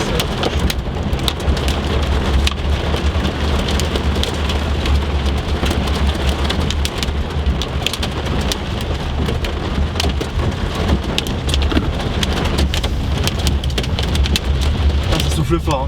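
Heavy rain pounds down during a tornado storm at Cheyenne in Tornado Alley, a loud, dense, continuous patter of drops on surfaces, with voices faintly audible under the downpour.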